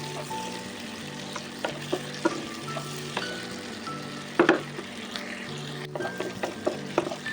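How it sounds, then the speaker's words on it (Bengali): Chopped vegetables and beans frying in a pan for vegetable fried rice, a steady sizzle broken by sharp scrapes and clacks of stirring at irregular intervals, close and alone with no talk. "সব সবজিগুলো এভাবেই ভাজতে থাকবো"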